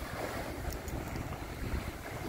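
Wind on the shore of Lake Victoria gusts steadily, buffeting the microphone with a low rumbling roar that runs through the whole clip, without voices.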